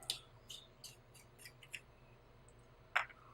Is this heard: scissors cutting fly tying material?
yes